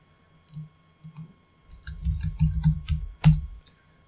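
Keys clatter on a computer keyboard as Python code is typed, arriving in short irregular bursts of close, crisp clicks with brief pauses between, no voices.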